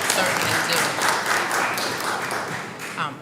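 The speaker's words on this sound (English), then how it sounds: "they deserve a round of applause" An audience at a New York State Reparations Commission meeting claps steadily for several seconds, a dense, even round of applause with a few louder claps standing out.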